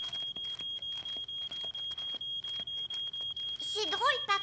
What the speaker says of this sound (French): Mon pain a brûlé et la fumée a déclenché l'alarme.